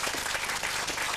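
A studio audience on a daytime talk show claps in a dense, steady burst of applause, moderately distant and evenly sustained through the brief moment, with no speech over it.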